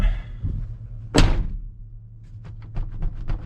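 A truck door slams shut once with a loud, close thud, followed by a few light knocks and rattles over a low idling hum.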